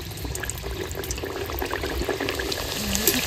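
Luchi puri (palong puri) frying in hot oil in a kadai makes a continuous close sizzle with fine crackling bubbles that swells slightly toward the end. No voices.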